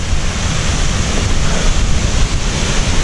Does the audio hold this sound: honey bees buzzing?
no